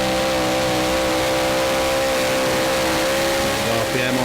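Modified-class pulling tractor engines held at high, steady revs during a Eurocup tractor pulling run, a loud continuous roar with strong harmonic drone that never lets up, with a commentator's voice faintly underneath.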